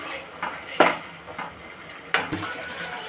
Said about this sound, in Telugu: ఒకసారి చికెన్ కలుపుకోవాలి మంచిగా.